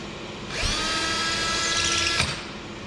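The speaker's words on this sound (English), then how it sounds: "And I'll drill." A power drill spins up and bores into aluminum sheet for rivet holes, giving a sharp, high whine that holds steady for under two seconds before cutting off, heard close up without speech.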